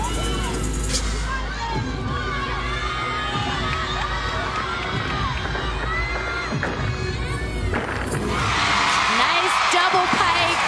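Home crowd at a college gymnastics meet at LSU cheers and shouts loudly and continuously, with high-pitched whoops and children's voices, swelling toward the end.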